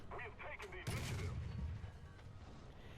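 A Cromwell V tank cannon fires at a Panzer III L in War Thunder with one sharp, loud, close blast and a rumbling tail, following a brief stretch of speech.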